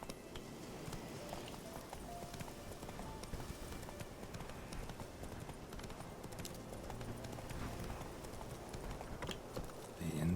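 Roach the horse gallops in The Witcher 3, a fast, steady clip-clop of hooves running on and on at close range under a low background bed.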